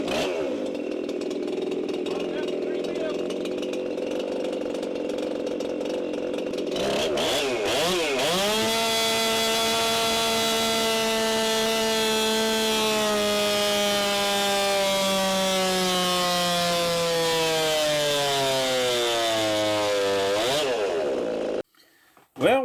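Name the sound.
chainsaw running on a dyno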